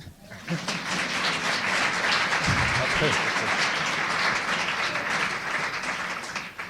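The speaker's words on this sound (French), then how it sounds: "Michel et Monique Pinson-Charlot, que vous pouvez applaudir" A conference audience applauds the two speakers, Michel and Monique Pinçon-Charlot, with a dense, sustained roar of clapping that rises quickly and holds steady, with some murmuring voices mixed in.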